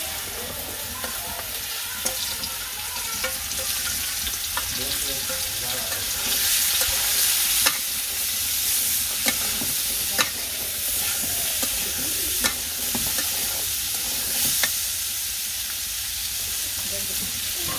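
Sweet pumpkin being stir-fried in a pan gives a steady, dense sizzle throughout, broken by occasional sharp scrapes and taps of the spatula, close and even in level.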